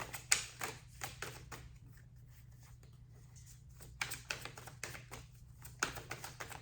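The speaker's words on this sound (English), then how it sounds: "These cards aren't easiest to shuffle." Crisp shuffling of a deck of tarot cards, bursts of riffled taps and flicks in uneven clusters, with a quieter pause in the middle and no talking.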